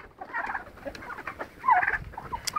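Several Muscovy ducks make soft, breathy hissing and chattering calls close by, with a few overlapping bursts and no talking.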